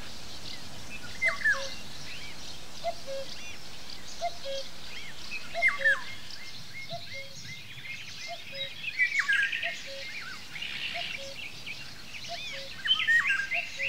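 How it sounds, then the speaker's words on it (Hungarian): Birdsong fills a quiet natural setting, with repeated chirps and short whistled calls, and a common cuckoo's two-note call mixed in from a distance at a soft, steady level. "Az idő múlásával a madárcsicsergés közé mind gyakrabban vegyül a kakukk jellegzetes hangja."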